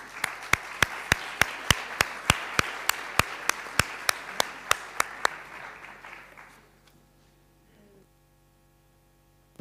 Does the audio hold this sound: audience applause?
yes